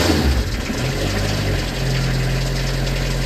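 An old Fiat Scudo van with a diesel engine warmed by glow plugs starts up, then runs at a loud, steady, rough idle close by, with a low rumbling drone throughout.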